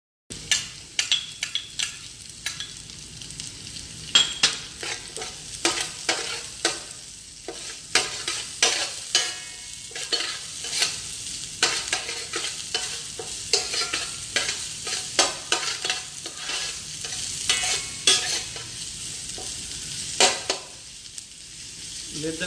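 Onion frying in a pan on a home stove, a continuous sizzle punctuated by many sharp spatula scrapes and taps as it is stirred, close and fairly loud without speech.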